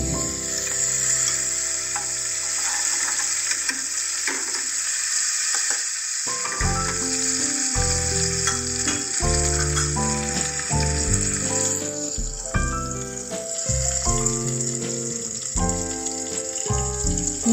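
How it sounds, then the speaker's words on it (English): Tadka chillies sauté in a hot pan for sambhar, a steady sizzle and crackle running throughout beneath music. "Add the tadka chillies, 4 to 5 in numbers, and saute for some time."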